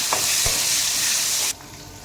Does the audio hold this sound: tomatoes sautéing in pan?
yes